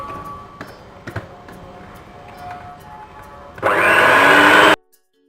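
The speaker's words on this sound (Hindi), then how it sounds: "पहले मैं इसे अच्छी तरह बीट करूंगी" Electric hand mixer beating butter and sugar for a Kentucky butter cake, a loud steady whir for about a second near the end, after quieter kitchen clatter and taps.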